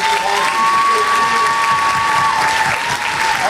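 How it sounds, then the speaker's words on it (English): Loud, continuous applause from a college speech night audience after a debate, thick steady clapping with a few faint cheers and a thin sustained tone running beneath it. "Take a big round of applause for Gavin and Alexis Mahone"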